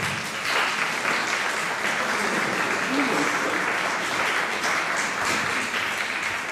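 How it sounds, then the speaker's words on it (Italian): Steady, dense applause fills a city council chamber at a meeting, a continuous wash of many hands clapping at even loudness throughout, with faint voices mixed underneath. "un grande applauso a questa donna."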